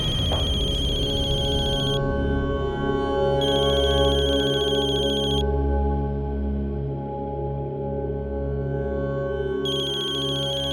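A phone rings repeatedly in a steady electronic pattern, clear and close, with a low hum underneath and no talking.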